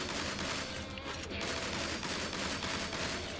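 Gunfire from the side-scrolling action game Shank rattles continuously throughout, a dense, loud barrage of rapid shots layered over busy game effects with no pauses.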